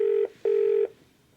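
A telephone call rings through to the BBC switchboard, heard as two clear electronic ringback tones, the first brief and the second longer, followed by a quiet line.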